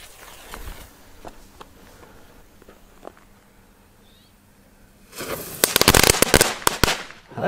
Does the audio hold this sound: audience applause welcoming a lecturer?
no